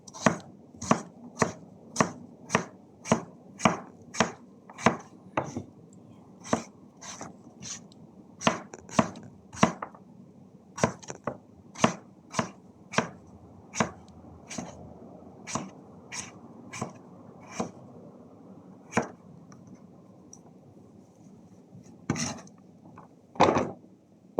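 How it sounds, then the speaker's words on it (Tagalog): A knife slicing through papaya on a cutting board, with about thirty crisp, evenly spaced chops close by, then a short pause and a final few cuts, with no talking. "hiwa-hiwain na natin ang papaya"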